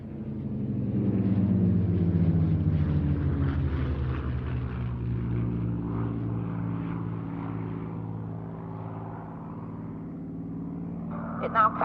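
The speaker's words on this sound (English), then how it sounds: "This particular Mustang flying for us today is a dual-controlled training version of the Mustang fighter" A P-51 Mustang, a dual-control training version, passes overhead at a Duxford flying day, a deep propeller-engine drone swelling and then slowly fading as it moves away, with a commentator talking over it.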